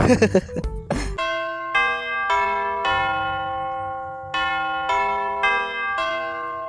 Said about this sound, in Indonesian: Udah bel nih.